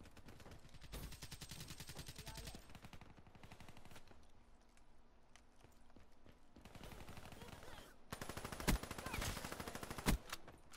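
Rapid automatic gunfire in the video game Black Ops 3, bursts of quick shots in rhythmic strings with a quieter stretch in the middle, then louder shots and sharp bangs toward the end.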